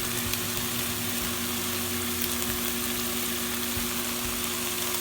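Chicken with yogurt and mint leaves for murgh kali mirch biryani sizzles steadily in a pan, a close, constant frying hiss over a low steady hum, with a few soft knocks and no talking.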